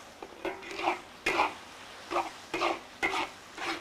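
Water spinach is stir-fried in a wok: a soft, steady rhythm of scraping and tossing strokes, about one every half second, with a faint sizzle underneath and no talking.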